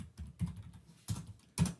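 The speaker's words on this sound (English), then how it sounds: "let's compile this by typing something like this" A computer keyboard is typed on to enter a compile command for a C++ program, giving a few soft, irregular clicks and taps close up with no talking.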